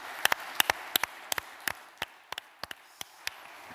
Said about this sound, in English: give you a warm round of applause for another successful event